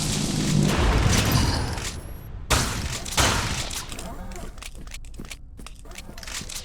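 Shotgun blasts from the Doom 3-style shooter Retchid, with two sharp, loud booms about a second apart over a busy backdrop of game noise and rumbling.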